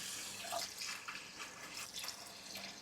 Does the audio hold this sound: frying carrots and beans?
no